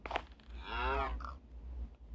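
A cow moos once in the Minecraft PE video game, a drawn-out harmonic low bellow lasting about half a second, clear and fairly close over a steady low hum.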